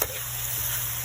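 Escabeche being stirred in a very hot pan, a brief, steady hiss of sizzling with a soft scrape at the start, close and even.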